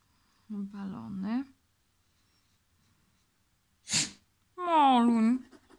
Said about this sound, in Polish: co mi tu kichasz?